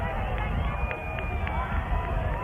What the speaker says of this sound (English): Now as he becomes more visible down to this end, the people cheer.